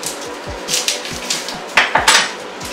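Onion chopped with a knife on a cutting board, a series of close, sharp taps in an uneven rhythm, some strokes louder and clacking against the board, with no talking.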